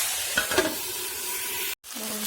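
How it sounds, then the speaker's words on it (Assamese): Cauliflower and potatoes with peas frying in a pan for an Assamese fish curry, a close, steady sizzle with spoon-stirring scrapes, briefly cut off before resuming. "ফুলকবি আলুখিনি ভাজি হৈ গ'ল লাহে লাহে।"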